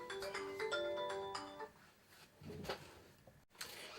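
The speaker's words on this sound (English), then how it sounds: "That was my phone ringing" A mobile phone rings with a repeating electronic melody in the first second and a half, fairly faint, followed by quieter shuffling and handling noises.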